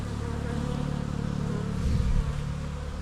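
A strong colony of honeybees hums at the hive in a dense, continuous buzz, close and steady. It swells briefly in the middle.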